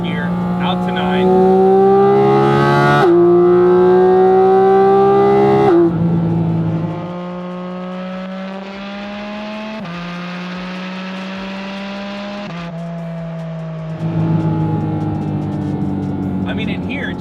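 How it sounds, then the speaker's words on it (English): In-cabin sound of a Porsche GT4RS with a Fabspeed exhaust and carbon intakes accelerating hard through third gear, engine climbing in steady rising sweeps with quick shift drops, loud and close, a voice occasionally talking over it. "I find myself driving with the windows up most of the time so I can get the most out of that in-cabin resonance from those carbon intakes."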